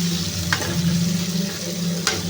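Onions frying in oil with mustard seeds and curry leaves for rava upma give a steady close sizzle, with two brief scraping strokes of a spoon stirring through the pan.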